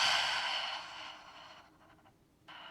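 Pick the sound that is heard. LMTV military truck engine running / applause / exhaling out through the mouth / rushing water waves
exhaling out through the mouth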